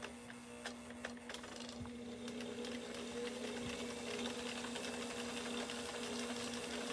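A motorized knitting machine, driven by a sewing-machine-style foot-feed motor, runs steadily with a constant hum and fast mechanical clatter, moderately loud and unbroken, with no talking.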